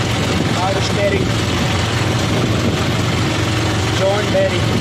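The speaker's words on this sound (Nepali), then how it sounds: "John Deere tractor." A John Deere power-steering tractor engine runs steadily throughout, a continuous low idle-like drone with people talking over it.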